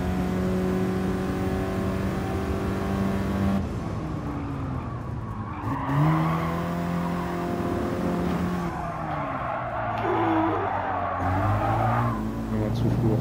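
VW Golf VII racing in Gran Turismo Sport on the Dragon Trail coast circuit: the engine revs up and down through gear changes as tires squeal in corners, loud and continuous, with a voice talking over it.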